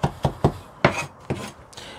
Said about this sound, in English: I want to cut it as finely as possible.